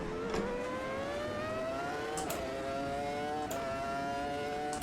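A V10 Formula One car from 2001 howls around Imola in a VR racing game, its high engine note climbing steadily and loud, broken by sharp cuts and a rough, stuttering traction-control crackle, with no voices.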